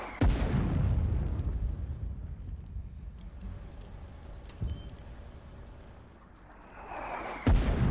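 Artillery shells explode in the war game Foxhole: three heavy booms at the start, middle and end, each with a rumbling tail, and no talking.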